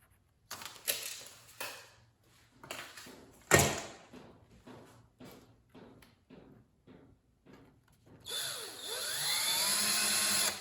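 A screw driven into a base plate while building a small stage turntable: a series of close knocks and clatters, then a steady, loud whirring drill sound that runs through the last two seconds.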